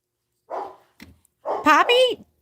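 A small dog lets out a couple of short barks and yips close by, with a pause between bursts and otherwise quiet surroundings.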